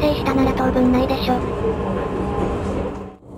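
An E131 train bound for Kisarazu pulls into a single-track Uchibo Line station, its motor and rail noise loud and close with tonal whine and squeals before fading into quieter station ambience, with voices present.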